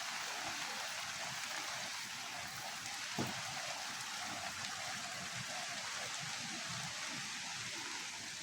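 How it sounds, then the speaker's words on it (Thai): Rain falls steadily all day on a rural farm plot, a dense even hiss of drops on surfaces, close and constant, with one brief knock partway through. "ฝนตกทั้งวันและมื้อนี้พี่น้องเอ้ย"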